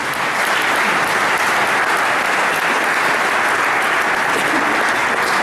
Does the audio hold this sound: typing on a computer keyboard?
no